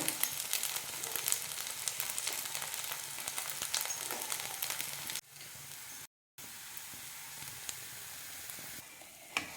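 Coconut dosa cooking in a pan over a medium flame, giving a steady soft sizzle throughout with a brief gap partway, close and moderately quiet with no talking.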